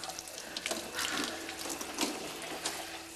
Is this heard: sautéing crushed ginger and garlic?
no